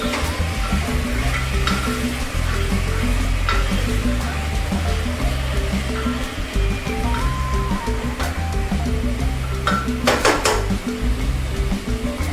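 Cabbage, cauliflower and capsicum being stir-fried in a hot pan for Indo-Chinese sweet and sour vegetables, a loud continuous sizzle with scraping stirs throughout, close and alone.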